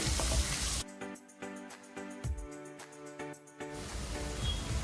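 Two finely chopped medium onions hit hot oil with golden garlic for a spicy brinjal bhaji, giving a close, bright sizzle that fades under a steady tonal hum midway, then returns in full.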